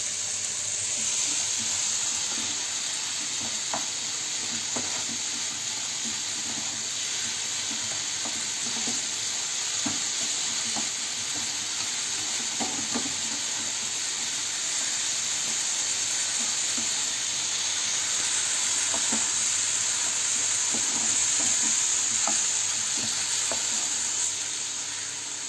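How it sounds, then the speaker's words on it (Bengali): Milk being stirred in a pan as it thickens on the stove, with a steady hiss and soft scattered scrapes and taps of the spoon against the pan throughout. "আমি দুধটাকেও নাড়ছি। দুধটাকে একটু ঘন হতে দিতে হবে আমার।"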